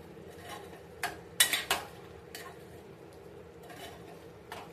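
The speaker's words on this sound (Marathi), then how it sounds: "फक्त काळजीपूर्वक ते आपल्याला भांड्यावरचं ताट आहे ते उचलायचं आहे।" A steel plate used as a lid is lifted off a cooking pot of prawns and potatoes, a few sharp metallic clanks and scrapes clustered together over a low steady background hum.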